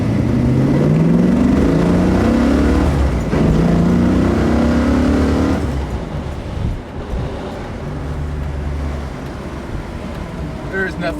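A 1970 Ford Mustang classic car engine drones loudly while driving, rising through the gears with a strong rumble, then easing to a lower cruising growl, with someone speaking over it.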